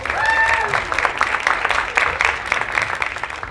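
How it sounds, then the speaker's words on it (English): An audience at a startup pitch competition applauds the pitching entrepreneurs, sustained crowd clapping that starts loud and slowly tapers, with a few whoops over it. "another round of applause for all of the entrepreneurs that pitched tonight"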